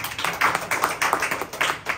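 Hands clap together during a church worship service in a quick, steady rhythm of crisp, sharp claps that carry on for the whole stretch, with no talking.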